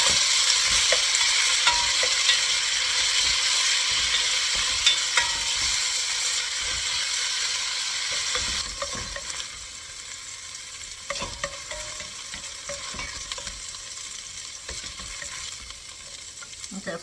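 Sausage fries in a pot for chicken and sausage corn gumbo, a loud sizzle that softens after a few seconds, broken by clatters and scrapes as pieces are moved and stirred.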